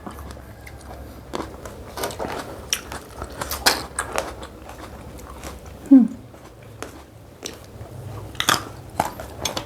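Crisp bites and chewing of fresh tomato or unripe green mango dipped in fermented fish chili sauce, sounding as close, scattered crunches with one sharper snap partway through, with faint murmuring underneath.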